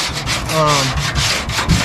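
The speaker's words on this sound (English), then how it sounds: "So we'll go over the whole car with that. The sanding blocks." Rhythmic back-and-forth rasp of a sanding block against a 2000 Nissan Sentra's body, close and steady, with short strokes repeating quickly.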